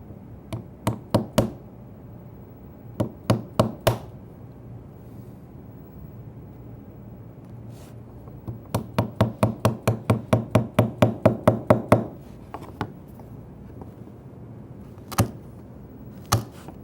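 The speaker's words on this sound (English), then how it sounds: "Come back and just connect the dots with a narrow chisel that'll fit in the dado." A narrow chisel chops out a wood dado joint, struck in sharp, close knocks: a few quick clusters of three or four blows, then a longer steady run of rapid strikes, and a few isolated final taps.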